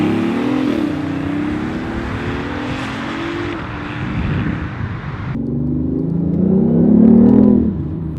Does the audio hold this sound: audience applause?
no